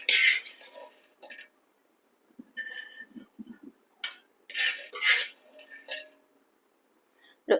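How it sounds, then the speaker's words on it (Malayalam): A metal spoon scrapes and clinks against a metal pan in scattered bursts while scooping out fried cashews, separated by short quiet gaps. "അണ്ടിപ്പരിപ്പ് മൂത്തിട്ടുണ്ട് ഇനി നമുക്കത് കോരി മാറ്റാം"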